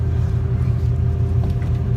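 Steady low rumble of a SkyBus airport shuttle bus heard from inside while riding, a constant droning engine and road noise with a faint voice over it.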